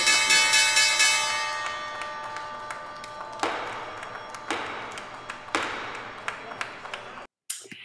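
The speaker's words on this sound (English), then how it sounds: "that was the closing bell on Wall Street" The closing bell on Wall Street rings in a sustained metallic clang at the start, then repeated strikes with decaying tails over a steady crowd murmur, fading out before a short burst at the end.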